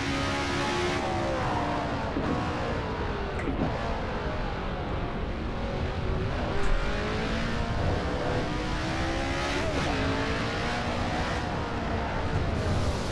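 A Honda Civic engine in the Assetto Corsa racing game drones loud and steady, its pitch climbing and dropping through repeated gear changes as the car accelerates, with no talk over it.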